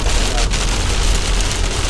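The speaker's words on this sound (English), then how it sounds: "Heavy rain at Highway 385 and 70 coming up here." Heavy rain drums on a car driving through a severe storm at a highway intersection near Spring Lake, a loud, dense, continuous roar of water against the vehicle with no break.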